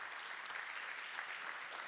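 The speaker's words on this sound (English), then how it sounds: "Let's give Mark a round of applause for a great presentation" Steady, dense applause from an audience honoring a presenter at the close of an agricultural talk, an even wash of many hands clapping throughout with no gaps.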